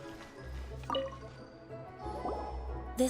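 Water being fetched in Genshin Impact makes soft liquid drips and squishy splashes, a few separate droplets over a low ambient hum, quiet and close.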